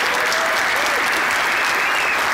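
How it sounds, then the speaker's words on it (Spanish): Loud, dense applause from a crowd at an event in Monterrey, continuous and even throughout, with a faint voice rising briefly underneath. "si le pueden dar un fuerte aplauso a mi compadre"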